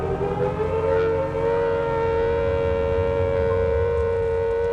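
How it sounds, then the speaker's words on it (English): An air raid siren in wartime Britain wails at a loud, steady pitch on an old recording, one sustained tone that holds for the whole stretch with no voices. "the first air raid siren in wartime Britain was heard"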